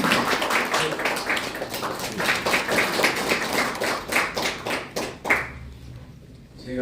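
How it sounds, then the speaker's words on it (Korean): Audience applause welcomes a speaker at a campaign office opening event in Yongsan, a dense run of clapping that fades out near the end. "큰 박수로 맞이해주시기 바랍니다."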